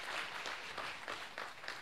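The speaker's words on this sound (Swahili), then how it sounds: "Clap for yourself." A church audience at a sermon claps in a quiet, distant patter, the soft rhythmic bursts of applause continuing steadily for a couple of seconds.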